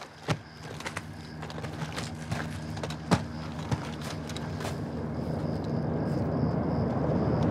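A helicopter approaches in Call of Duty Modern Warfare 2, its rotor drone swelling steadily louder over several seconds after scattered mechanical clicks and knocks.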